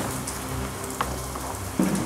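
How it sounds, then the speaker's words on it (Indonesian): Steady rain patters and hisses on a surface nearby, with a soft knock partway through and a low thump near the end. "Hujan pun hujan lah."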